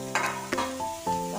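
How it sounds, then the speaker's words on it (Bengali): Cashews and raisins frying in a pan for poha, a short burst of sizzling with a couple of quick stirring scrapes, close up over a low background hum. "এবার আমি কাজু আর কিশমিশটা দিয়ে দিলাম"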